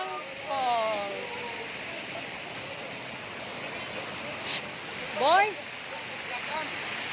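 Hindang Falls waterfall roars as a steady broadband rush of falling water throughout, with people talking and calling out over it.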